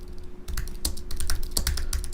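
Someone types on a computer keyboard with quick, irregular key clicks and taps, close and moderately quiet, with no voices.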